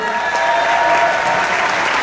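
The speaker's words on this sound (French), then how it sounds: "Donc vous pouvez les applaudir, ça leur fait plaisir." Dense, steady audience applause fills the hall at the Toulouse Game Show 2012 inauguration as guests walk onto the stage, loud and continuous from start to finish.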